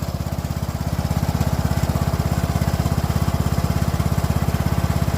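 A restored John Deere ride-on mower cutting grass, its engine chugging in a loud, fast, steady pulse close by, with no pauses.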